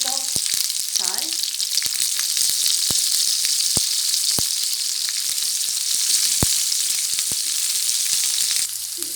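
Red chilies and spices fry in hot oil in a pan while making egg gravy, a loud, dense, continuous hiss and crackle up close with occasional sharp pops and a few light clicks, and no talking.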